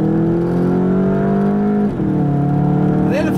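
A 2019 Volkswagen GTI Autobahn in sport mode accelerating hard on a back road, its engine droning loudly and steadily from inside the car, the pitch dropping briefly at a gear change before climbing again.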